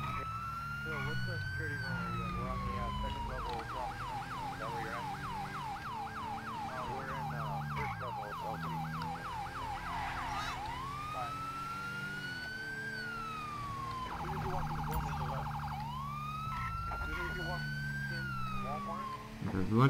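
Police sirens in GTA 5 with the LSPDFR mod wail and yelp through repeated rising and falling cycles, loud and close, switching to rapid warbles midway, with a voice talking over them at times.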